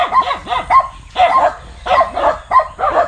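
Dogs near a rural farm bark in rapid, loud bursts, several barks and yips overlapping in quick rhythm, close to the listener with no talking.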